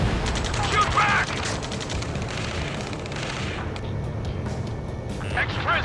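Heavy exchange of gunfire in the video game Ace Combat 7: Skies Unknown, with dense overlapping machine-gun bursts and shots under shouted voices, loud at first and thinning out toward the end.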